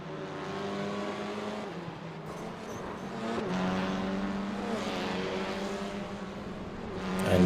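An F4 race car engine drones steadily in the iRacing sim, with gear shifts and a rising rev toward the end, heard alone.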